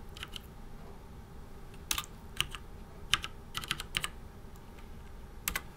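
Keys tapped on a computer keyboard while zip codes are entered into a property search field, a sparse run of crisp clicks with irregular pauses and a few quick bursts over a faint room hiss.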